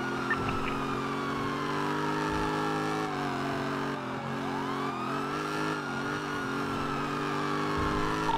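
A car drives fast during a police chase in a video game, its engine droning steadily while a siren wails and sweeps up and down over it, with no voices.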